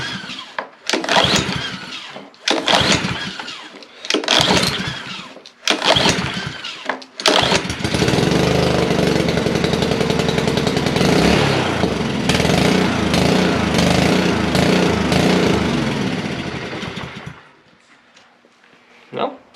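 A repaired pressure washer's small engine sputters through several pull-start attempts with pauses, then catches and runs loud and steady for about ten seconds before shutting off, with a little talk around it.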